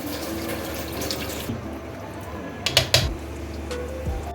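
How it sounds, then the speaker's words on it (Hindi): Water poured into a pot of browned mutton for aloo gosht curry, a steady running-water wash with a few sharp clinks near the middle, heard close up with no talk. "जब गोश्त अच्छे तरीके से भुन जाए तो इसमें पानी ऐड करके इसको पकने के लिए रख दें"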